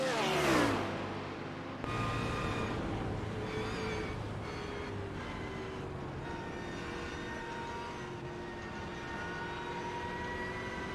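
A Martini-liveried Porsche 911 race car at the Nürburgring, with a BMW close behind, holds a loud, continuous engine roar whose pitch climbs and shifts through gear changes across the whole stretch.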